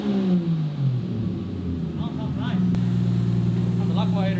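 Exhaust of a Toyota Soarer with a 1JZ engine fitted with a Vibrant Performance resonator, a steady deep rumble that swells as the engine is revved, near and loud, with a voice talking over it.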